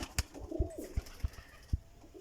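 Top-quality racing pigeons coo softly in a loft, low repeated pulses about every half second, close but quiet, with faint background noise.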